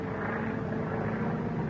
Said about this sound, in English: It's a government plane.